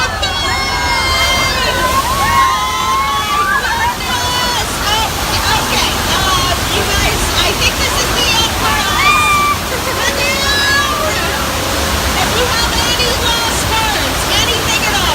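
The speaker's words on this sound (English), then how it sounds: "Oh no, the water!" Rushing, sloshing flood water surges during a staged effect on the Universal Studios tram tour, loud and continuous, while a crowd of riders chatters and exclaims over it throughout.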